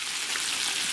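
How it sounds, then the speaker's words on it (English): Close, bright sizzling crackles steadily as chicken fries in hot oil, with no pauses. "But this will start frying up."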